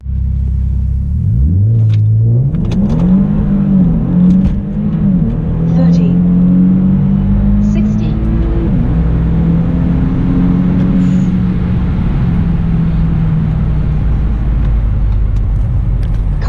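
A car accelerates hard on a quarter-mile test run, the engine rising through several gears in a loud, continuous, close roar with clear shift breaks, then holding a steady drone.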